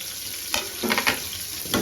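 Curry leaves, green chillies and garlic are tempered in hot oil with stirring. Several loud crackling sizzle bursts come close up with no talking.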